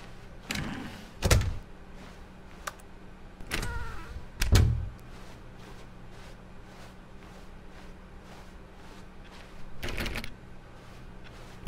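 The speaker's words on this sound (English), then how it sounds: "Stanley took the first open door on his left." Door sounds in The Stanley Parable game, several sharp thuds and clunks spaced apart with quiet stretches between, as a door is opened and handled, no talk over them.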